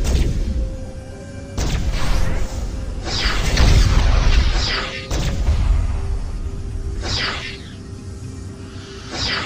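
Spaceship weapons firing in the space game Starpoint Gemini 2, with repeated loud booming blasts and sharp bursts over a steady low hum, several shots spread unevenly across the stretch.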